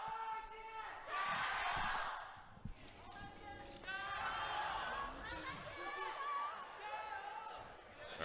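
Crowd noise at an LPL League of Legends esports match between FPX and IG, rising in loud roaring swells behind a commentator who talks throughout.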